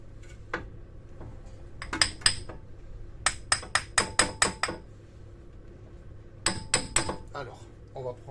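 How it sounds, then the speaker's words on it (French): A hammer strikes the front wheel bearing of a Mercedes CLK 200 W208 in quick runs of sharp metallic blows, several in a row with short pauses between runs, loud and close in a workshop with a low background hum. "Voilà, on va y aller doucement au marteau."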